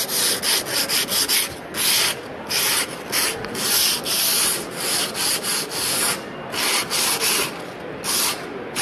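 Sandpaper is rubbed by hand along the edges of a countertop being prepared for a metallic epoxy overlay, making steady, rhythmic back-and-forth scratchy strokes, close and loud with brief pauses.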